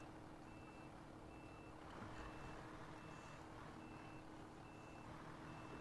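A truck in the SnowRunner video game reverses, its backup alarm repeating steady beeps over a continuous low diesel engine rumble.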